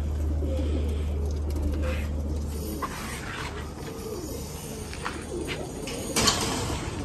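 Homing pigeons cooing in a loft kept alongside red pigeons, soft low coos repeating over a steady background hum, with no one talking.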